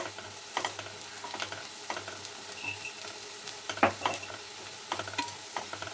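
A masala mixture sautés in a pan with salt added, ready for mashed sweet potato to go in; soft steady frying with intermittent stirring scrapes and clinks, close and moderately quiet, with no talking.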